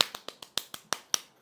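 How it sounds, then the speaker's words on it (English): A single person claps hands at a quick, slightly uneven pace, about ten sharp, crisp claps in a row, close and isolated with no talking over them. "Why am I clapping?"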